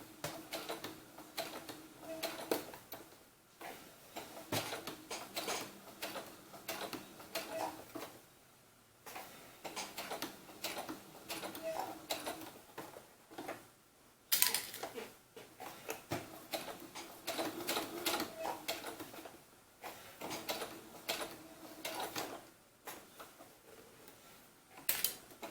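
A sewing machine stitches slowly around the edges of a doll romper in bursts of rapid mechanical chatter, stopping and restarting with short pauses between runs, close and moderately loud.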